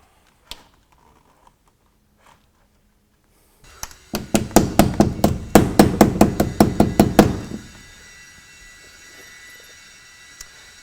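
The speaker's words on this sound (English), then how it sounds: "I want to put one nail through the overlapping section here." A hammer drives a nail into an eave starter strip on a roof edge: a quick run of about a dozen sharp, evenly spaced strikes, close and loud, followed by a faint lingering tail.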